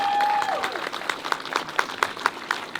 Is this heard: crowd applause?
yes